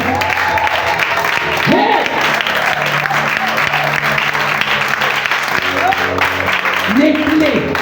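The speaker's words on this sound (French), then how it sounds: "Est-ce qu'on peut acclamer le Seigneur?" A church congregation applauds and cheers to acclaim the Lord, a dense, steady roar of clapping and voices filling the room throughout, with shouted exclamations rising above it.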